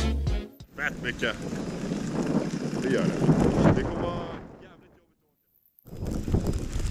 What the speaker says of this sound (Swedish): som ni ser, det blåser fett mycket